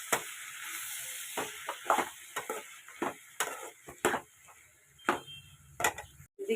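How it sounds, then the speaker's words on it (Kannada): Tomatoes and capsicum fry in a home-cooking pan, giving soft sizzling broken by repeated close scrapes and clinks of stirring in an irregular rhythm. "ಟೊಮೆಟೊ ಹಾಕ್ಕೊಂಡು ಚೆನ್ನಾಗಿ ಫ್ರೈ ಮಾಡ್ಕೊಬೇಕು."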